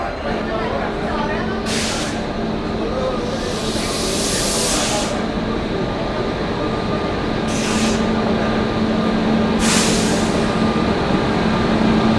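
Amrit Bharat Express train arriving at a newly built station platform, a steady loud rumble with hissing bursts of air brakes recurring over the roar, close by.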